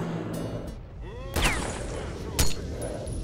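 Two sharp sniper rifle shots in the video game STALKER: Shadow of Chernobyl, spaced about a second apart, each a loud close crack with a short ringing tail, with a soft voice between them.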